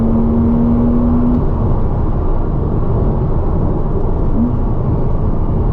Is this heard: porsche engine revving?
yes